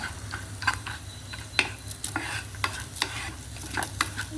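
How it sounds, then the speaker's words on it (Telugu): Green chilies and pumpkin seeds with salt and chili powder dry-roasting in a pan on a low flame, with a steady sizzle broken by repeated sharp scrapes and clinks of stirring. "ఉప్పు, కారం, పచ్చిమిరపకాయలు, గుమ్మడి గింజలు ఇంక ఇలా సిమ్లో మనకి ఎంత రోస్ట్ కావాలంటే అంత రోస్ట్గా వేపుకుంటే బాగుంటాయి."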